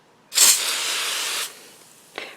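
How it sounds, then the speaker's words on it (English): Spray starch misted onto cardstock inside a spray box: one loud, close hissing burst lasting about a second, followed by a short, fainter puff. "So I spray the cardstock in a spray box with the spray starch"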